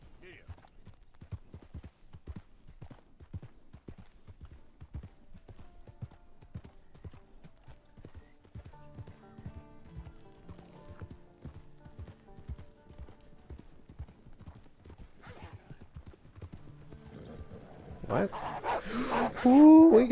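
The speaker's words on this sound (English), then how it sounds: "The horse is sprinting." A horse gallops in Red Dead Redemption II, its steady rapid hoofbeats running close and clear through the whole stretch while someone talks over them. Louder rustling and animal noise rise near the end.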